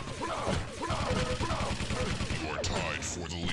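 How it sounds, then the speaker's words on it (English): Machine gun fire in a video game match, a dense rapid stream of shots running under a commentator's talk throughout, with a few sharper impacts near the end. "Walter finishes off with machine gun from afar"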